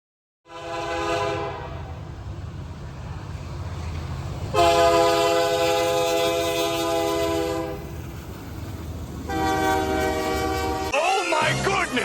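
Railfan scene in the Carolinas: a locomotive-hauled train rumbles steadily past, sounding its multi-chime air horn in several long, loud blasts, with a final horn burst as the rumble continues and no talking.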